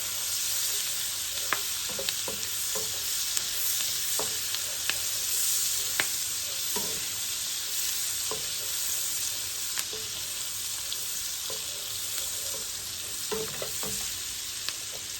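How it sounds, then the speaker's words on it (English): A medium yellow onion sautéing in a pan, with a continuous soft sizzle broken by frequent light clicks and scrapes of a stirring utensil, close and even throughout. "I'm going to add a medium yellow onion. And saute that until it starts to get a little bit soft"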